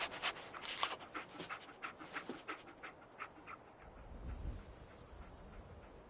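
Dogmeat, the dog in the video game Fallout 4, panting in quick, soft, rhythmic breaths that fade into quieter sniffing, faint and close.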